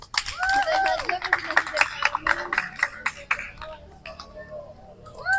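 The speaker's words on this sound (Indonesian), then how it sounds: "Kasih tepuk tangan" A group of students at a physical education session claps in sharp, uneven bursts, the hand claps standing out alongside children's voices and chatter throughout.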